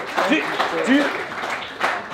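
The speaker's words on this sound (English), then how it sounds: "Give a round of applause." A late-night comedy show's studio audience applauds in a short continuous burst, with whoops and voices rising over the clapping.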